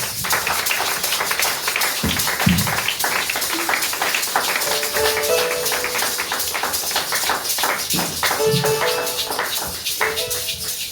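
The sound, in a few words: audience applause and cheers welcoming the apostle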